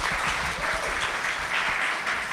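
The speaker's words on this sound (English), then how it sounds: "Can you give them a big round of applause?" Audience applause for a panel of women at a fashion event, a dense, steady wash of many hands clapping throughout without pause.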